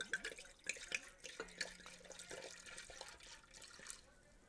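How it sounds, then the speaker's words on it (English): A whole bottle of wine is poured into a pan to heat for Glühwein, making a faint, quiet splashing and trickling of liquid with a few small clinks, heard up close in a kitchen. "I'm going to just put this entire bottle in the pan to be heated up."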